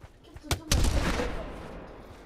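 A grenade dropped in the VR shooter Pavlov goes off: a sharp crack is followed by a loud, rumbling explosion that decays over about a second and a half.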